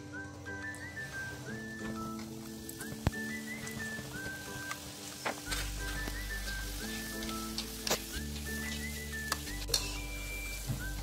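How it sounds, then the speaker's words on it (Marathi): Samosas fry in hot oil over low heat, a soft steady sizzle with faint pops and occasional ticks heard close and quiet beneath low background hum. "समोसे तळून घेऊया।"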